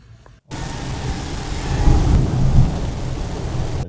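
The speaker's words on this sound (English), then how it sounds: "It's really windy though." Strong wind buffets outdoors in Albania, a loud, steady broadband roar that kicks in after a brief quiet start and swells with gusts for several seconds, with no voices.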